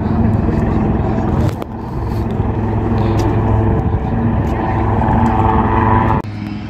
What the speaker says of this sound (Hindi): यमथंग वैली में हेलीकॉप्टर लैंडिंग हो रहा है आज,